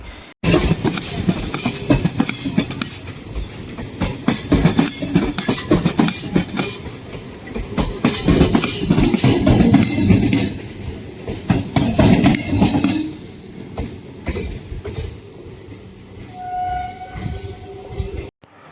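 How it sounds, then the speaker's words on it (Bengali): Train wheels rolling over rail joints held by one-metre fish plates bolted to the track, a loud close rumble with repeated rhythmic clacks that gradually eases as the cars pass. "রেল ট্র্যাকটি কিন্তু এক মিটার দৈর্ঘ্যের ফিশ প্লেট দিয়ে আট নাট বল্টুর সাহায্যে আটকে রাখা হয় যাতে রেলগাড়ির চাকা তার উপর দিয়ে গড়িয়ে যেতে পারে"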